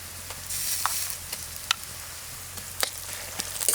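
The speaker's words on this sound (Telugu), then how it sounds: "ఈ అల్లం వెల్లుల్లి పేస్ట్ పచ్చివాసన పోయే వరకు వేయించుకోవాలండి" Ginger garlic paste frying with onions and green chillies in a pan, a steady close sizzle with scattered crackles and pops and soft stirring scrapes, heard alone without talk.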